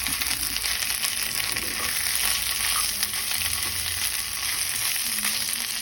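Potato paste for a ragi masala dosa filling sizzles and fries in a pan while being mixed, a constant close hiss with scraping stirs underneath.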